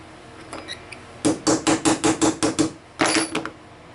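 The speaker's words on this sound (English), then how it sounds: "Then we'll take our 1/8 inch punch and just even it out." A hammer drives a 1/8 inch punch into a CZ 912 shotgun trigger part: a few light taps, then a quick, even run of about ten sharp, close metallic strikes, with a brief final burst.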